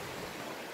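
A clear mountain stream in a wintry valley in Bonghwa, North Gyeongbuk, flowing with a steady broadband rush of water, fairly quiet and continuous with no voices.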